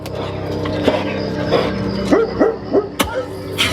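Dog barks and yips ring out several times in quick succession inside a Halloween Horror Nights haunted house, loud and close over a layer of crowd and ambient noise.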